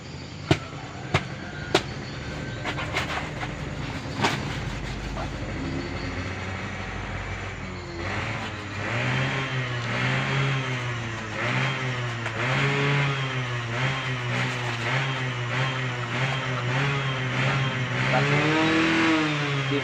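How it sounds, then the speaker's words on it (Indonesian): A motorcycle engine warms up nearby. A few sharp knocks come first, then the engine revs repeatedly, its pitch climbing and falling in steady waves that grow louder toward the end. "Itu anak lagi manasin motor."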